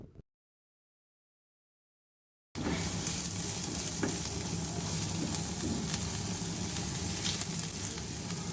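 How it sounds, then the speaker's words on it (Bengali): Onion sizzling in a tablespoon of olive oil in a hot pan while being stirred, a steady loud hiss that begins abruptly after a short silence and continues alone to the end. "গরম কড়াইয়ে 1 টেবিল চামচ পরিমাণ অলিভ অয়েল দিয়ে পেঁয়াজ দিয়ে কিছুক্ষণ নাড়তে হবে।"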